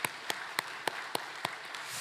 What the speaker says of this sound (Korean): 우리 같이 박수할까요? 하나님 앞에.